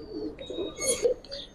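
Soft, murmuring coos from a pair of silver pigeons sit close by, rising briefly to a louder call near the middle, with faint background noise around them.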